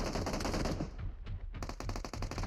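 Rapid automatic gunfire in the PUBG Mobile battle game, loud bursts of close shots with a brief pause before the firing resumes at full volume.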